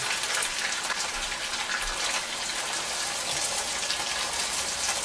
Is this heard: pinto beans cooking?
yes